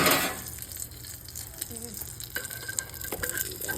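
Cockroaches sizzle in a frying pan with soft pepper while being stirred, giving a steady close hiss with small scraping stirs throughout.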